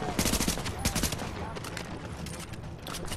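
Rapid MP5 submachine gun fire in the shooter game The Division, dense overlapping bursts of shots up close with a few layered distant reports.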